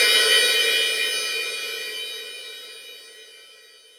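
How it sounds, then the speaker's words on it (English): A synthesized cymbal built in Ableton, with a modulated high shelf making it bloom, rings alone as a bright, sustained metallic wash that decays slowly over several seconds. "modulate the high shelf so that it mimics the bloom of a cymbal,"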